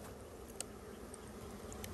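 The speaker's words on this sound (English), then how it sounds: "loose bees that are roaming around" Honeybees from a package being installed into a hive give a steady, low insect buzz throughout, with a few brief sharper ticks and no talking.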